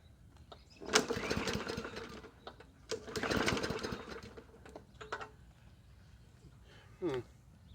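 A Yard Machines 20-inch walk-behind lawn mower engine cranks and sputters in two loud bursts, each running briefly before dying, followed by a few faint knocks and a short final cough. The mower is close by, with no talk over it.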